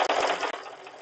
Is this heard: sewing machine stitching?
yes